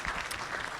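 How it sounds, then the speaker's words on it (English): Applause from participants at the close of a transportation summit session, a short steady patter of clapping heard alone. "Okay, final clap for everyone."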